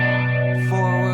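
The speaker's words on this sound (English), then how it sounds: "there's a big distortion change." A sustained electric guitar chord with heavy distortion, buzzy and saturated, shifting tone partway through as the distortion changes.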